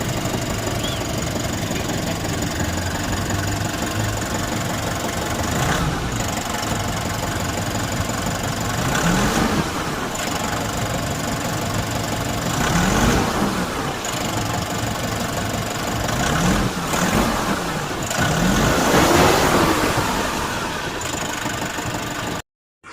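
Nissan Urvan NV350 van engine with a low-power fault and a repaired turbo actuator, running steadily up close with a dense mechanical knock and a few rising rev swells, no talk.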